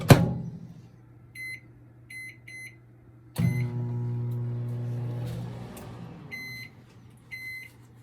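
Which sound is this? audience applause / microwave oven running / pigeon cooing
microwave oven running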